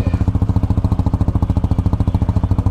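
A Honda CBR 2025 Thai Edition motorcycle idles up close. The engine throbs in a loud, even, rapid pulse that stays steady with no talking.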